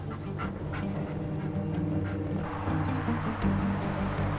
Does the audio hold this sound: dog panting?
yes